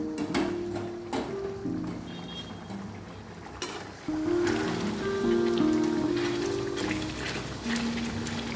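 Hot water poured a little at a time into chicken and potato frying in a pan gives a continuous hissing sizzle, with brief clinks and a steady bubbling undertone.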